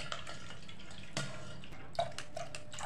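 Thick homemade juice trickles and drips through a strainer in a kitchen, light irregular splashes and drips close by over a quiet watery hiss, no talking.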